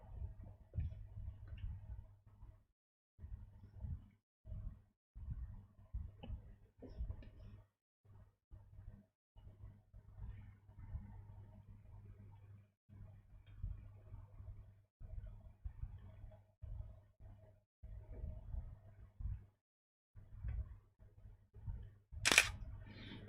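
Camera lens autofocus hunting during one-light product photography at home: faint, low whirring buzzes recur in short bursts throughout, ending with a sharp click near the end.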